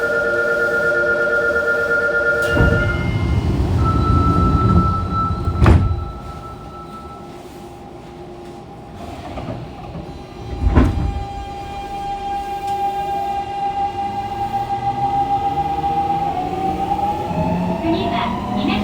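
Fukuoka City Subway 2000 series train set 23 with late-model Hitachi GTO-VVVF drive, running under manual operation with an abnormal noise. Whining motor tones rise and fall with speed, heavy rumbling throughout and a few loud thumps from the circuit breaker.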